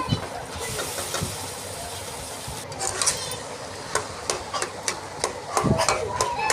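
Taro leaves being stirred in a cooking pan with fried spices, a steady sizzling hiss with scattered scraping and clinking knocks of the utensil, growing busier toward the end.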